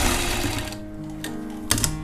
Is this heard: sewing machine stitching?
yes